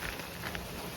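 Heavy rain pours down in a flooding storm with strong winds, a dense steady hiss of drops close by filling the short moment without a break.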